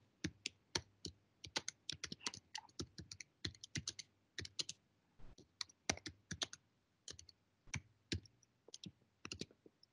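Quiet, close typing on a computer keyboard, with irregular bursts of sharp key clicks and short pauses between them.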